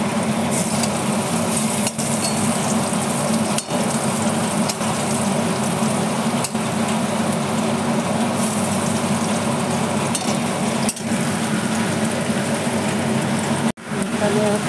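Banana stem (thor) frying in a pan, giving a steady, dense sizzle that runs unbroken at close range with only a few brief dips.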